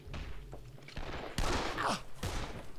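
A sniper rifle shot rings out in the zombie video game Dead Island, a single sharp crack followed by a rumbling tail amid other muffled in-game thumps and noise, with no talking.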